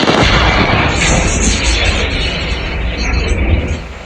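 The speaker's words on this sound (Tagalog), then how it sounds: "Nagulat ang mga taga-Venezuela sa biglaang mga pagsabog doon Sabado ng madaling araw" Sudden explosions in Caracas, Venezuela in the early hours of a Saturday, heard as a dense, continuous roar of blasts and booming bursts that stays loud throughout with no quiet gaps.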